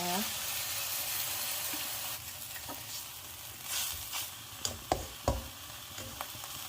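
Glass noodles and water go into a pan of frying shrimp, giving a steady soft sizzle with a few stirring clicks and scrapes, while someone talks over it.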